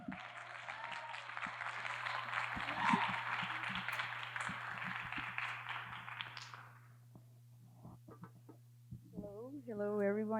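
Audience applause for a panel speaker at a conference, a broad sustained clapping wash for about seven seconds that fades out, followed by a quiet pause and a voice starting to speak.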